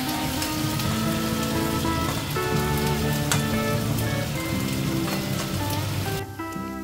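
Dried red chillies, cinnamon, cloves and cardamom sizzle steadily in hot oil for chicken malai curry, a dense, continuous crackle close by with no voices, cutting off near the end.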